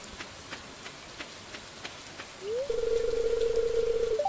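A rain shower in Stardew Valley makes a steady, soft hiss with faint ticks, and a sustained electronic tone joins partway through.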